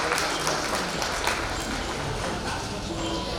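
Dense, loud applause from a seminar audience welcoming a guest fills the whole stretch as a steady wash of clapping with no clear pauses.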